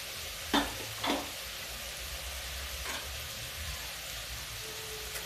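Kidney bean curry with spices sizzles faintly and steadily in a pan, broken by a few brief stirring knocks.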